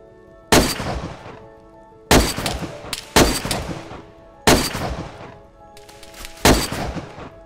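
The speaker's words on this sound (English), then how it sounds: "What is he shooting at?" Sharp gunshots ring out in DayZ, five loud separate reports spaced a second or two apart, each followed by a long rolling echo and no talk in between.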